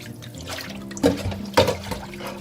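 Water sloshes and splashes as salted tilapia pieces are rinsed by hand in a bowl, with two sharper splashes standing out over a low running-water wash.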